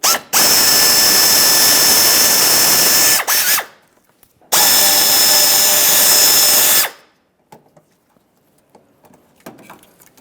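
Power drill removing two T20 Torx screws from a fog lamp bracket on a 2009-2014 Nissan Maxima, two loud, close, steady whirring bursts of about three seconds each, separated by a short pause and followed by faint handling noise.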